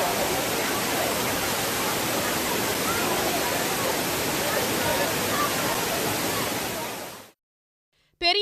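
Heavy water pours steadily down Suruli waterfall after heavy rain, a loud, dense, unbroken roar that runs for about seven seconds and then cuts off sharply into near silence, with a brief burst of voice right at the end.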